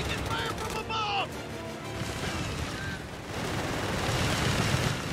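Gunfire in a 4v4 multiplayer battle in Company of Heroes 3, a continuous roar of rifle and machine-gun fire with dull blasts. Distant combat rumbles throughout, with brief tonal effects early on.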